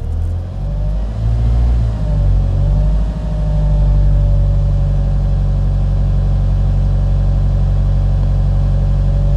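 A car engine rises to around 1500 rpm as the accelerator is pressed during low-speed pedal practice, a steady close hum that swells briefly then holds at an even drone with no talk over it.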